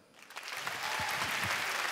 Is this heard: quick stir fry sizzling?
no